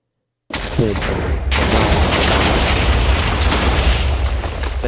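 TNT detonates in Minecraft, a sudden loud blast after a brief silence followed by a dense, sustained rumbling crackle of repeated explosions that continues to the end.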